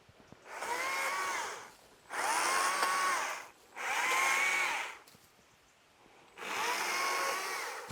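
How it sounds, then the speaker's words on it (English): A small electric chainsaw on a mountain homestead in Portugal, used to cut dead peach trees, whirs in four sustained bursts with brief pauses between, a steady high motor whine, fairly close. "I want to explain about this chainsaw because it's small and mighty. This is good. It's an electric chainsaw."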